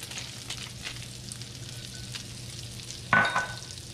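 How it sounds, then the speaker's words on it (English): Almonds and capers fry in brown butter with a steady soft sizzle, and a louder hiss swells near the end as more goes into the pan. "Let those kind of fry up a little bit."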